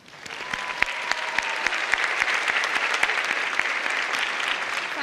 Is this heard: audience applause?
yes